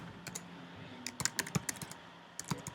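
Keys clatter on a computer keyboard as a report is typed in Google Docs, starting with a few scattered taps and then quicker uneven bursts with short pauses between them, close by and fairly soft, with no voices.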